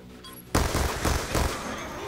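Gunfire in the shooter Call of Duty: Black Ops 2 during online multiplayer: after a brief quiet moment, a sudden loud burst of rapid automatic shots rattles on for nearly two seconds.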